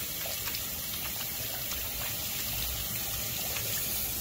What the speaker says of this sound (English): And just rinse your hands off.